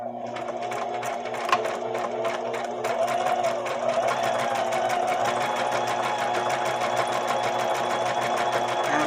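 A basic home sewing machine stitches through wax paper and lace, a loud continuous rapid mechanical chatter with steady needle strokes throughout.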